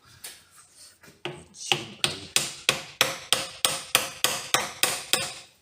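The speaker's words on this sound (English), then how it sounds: "So we're going to need a hammer." A hammer strikes the metal of a Morris Minor dynamo again and again in a steady rhythm, about a dozen sharp ringing blows close up, after a few lighter taps.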